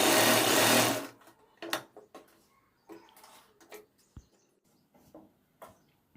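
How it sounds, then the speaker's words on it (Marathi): A sewing machine runs in one loud, steady burst for about a second while stitching a fabric strip for a blouse, then gives way to quieter scattered clicks and handling noises. "ती एका बाजूने थोडीशी टीप मारून घ्यायची"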